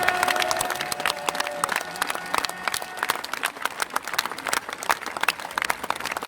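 Spectators at a mountain bike cross-country race in Lons-le-Saunier applaud in a crisp, rapid patter of individual claps, fairly close and steady throughout, with a faint tone lingering briefly at the start.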